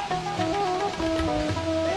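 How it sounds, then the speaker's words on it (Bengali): Steady rushing roar of the waterfall at Bamni Falls in Purulia, continuous and fairly full, with a sustained melodic tone running over the water noise. "এখান থেকে ঝর্ণা আওয়াজ পাচ্ছ।"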